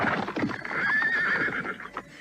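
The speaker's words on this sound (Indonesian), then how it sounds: "rombongan kereta kuda yang mengiring wanita bercadar hitam itu baru saja sampai di halaman keraton" A horse neighs loudly in a long whinny as a horse-drawn carriage procession arrives in the courtyard of an old palace, with hooves clip-clopping close by before and after the call.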